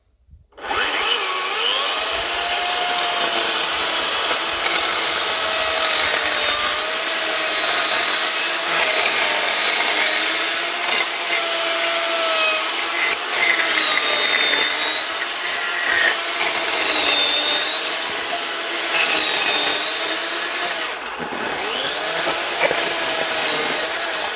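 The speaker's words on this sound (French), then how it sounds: "je vais démarrer cette tronçonneuse que vous pouvez reconnaître" A Husqvarna chainsaw runs steadily for over twenty seconds with a high buzzing whine, its pitch shifting as it bites into wood, loud and close.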